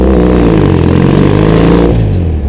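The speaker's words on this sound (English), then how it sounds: "they practice revving the bike with a rhythm, like music" A motorcycle engine on a Tokyo street ride is revved rhythmically with clutch and throttle, producing a loud, close, continuous droning hum whose pitch wavers slightly and drops near the end.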